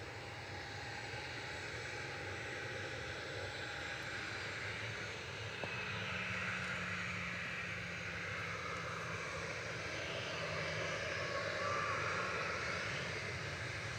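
A Boeing 737-800 jet departs Manchester Airport for Prague, its engines a faint, distant, steady roar that swells slightly toward the end.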